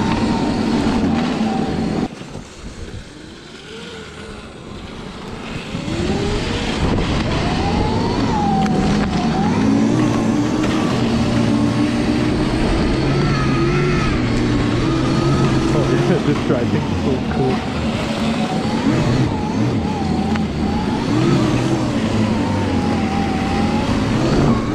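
A SurRon electric dirt bike fitted with a snow kit rides hard, its motor and track whirring loudly and continuously with shifting pitch through the whole run, with wind rush and no voices heard.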